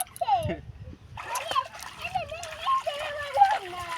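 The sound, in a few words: child kicking legs and splashing in river water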